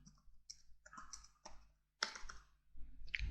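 Quiet computer keyboard typing comes in short bursts of light clicks with brief pauses between them, heard close and alone.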